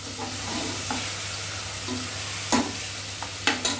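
Tomatoes and onions sautéing in a pan for vegetable biryani, with a steady close sizzle and a few sharp spoon scrapes and stirring knocks toward the end.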